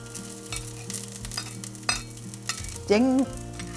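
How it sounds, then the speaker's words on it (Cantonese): Oil crackles and sizzles steadily as shallots are stir-fried in a hot wok, with scraping clatter and a brief louder hiss near the end. "俾啲乾葱爆香佢先。"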